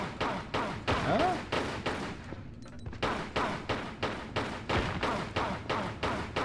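Pistol fire in the video game Tomb Raider: The Last Revelation, with rapid evenly spaced shots in a long run, a short pause, then another steady burst, loud and close.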